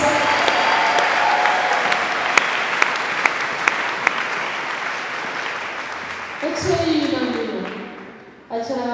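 A church congregation applauding for Jesus, loud sustained clapping from many hands filling the room, fading near the end as voices rise over it.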